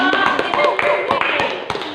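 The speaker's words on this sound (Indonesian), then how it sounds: "tepuk tangan untuk kelompok" A classroom group claps hands together in a quick, uneven patter of sharp claps, fairly close and lively, with voices mixed faintly underneath.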